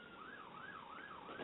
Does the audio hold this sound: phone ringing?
no